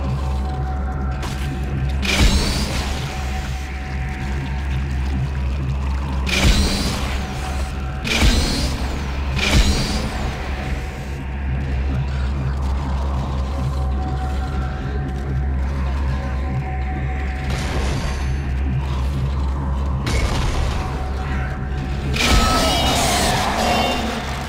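Elevator machinery in the Dead Space video game, a steady low mechanical rumble with creaks and clanks as the lift runs, bursts of louder metallic grinding rising at intervals over the continuous drone.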